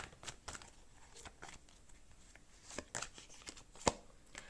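Tarot cards are shuffled for a reading in soft, quick riffles and taps, a sequence of faint crisp flicks close by with one sharper snap near the end.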